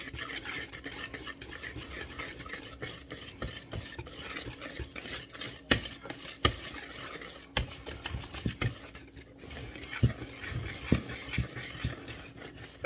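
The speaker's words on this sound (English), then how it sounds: "Whisk that in" Blondie batter is whisked in a bowl, a brisk continuous scraping and swishing with sharper clinks as the whisk hits the sides, fairly close and fairly quiet, with no voices.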